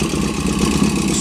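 A Norton Ranger 750 motorcycle engine ticks over at idle, a steady, close, low rumbling throb with no change in pace.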